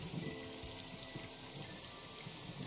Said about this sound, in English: Parasol is getting pelted by the rain.